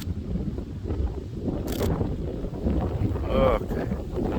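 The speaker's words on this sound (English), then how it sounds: "wind is blowing." Gusty outdoor wind during bird photography, with a rough, rumbling roar buffeting close against the microphone and a faint brief chirp partway through.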